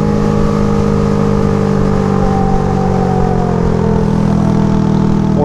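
A Honda Grom motorcycle revs hard along a mountain road, its engine note climbing and falling in a continuous, loud, close whine with no speech over it.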